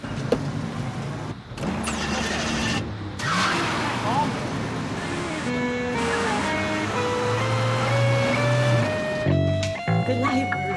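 A car drives along with a steady engine hum and road noise, close and continuous, while people talk over it.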